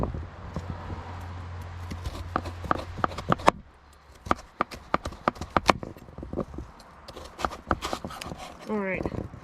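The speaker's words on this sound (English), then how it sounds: "time to do some chopping" Pumpkin pieces chopped with a knife on a board at a campsite, for rustic soup: a run of sharp, irregular knocks close by, some in quick bursts, with a short rising squeak near the end.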